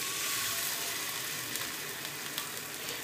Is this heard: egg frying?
yes